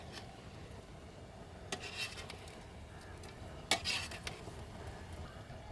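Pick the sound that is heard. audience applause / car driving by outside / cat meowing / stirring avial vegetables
stirring avial vegetables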